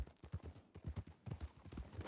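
Steady clip-clop of a horse's hooves in the Red Dead video game, a quick, even rhythm of faint, soft thuds that continues without pause.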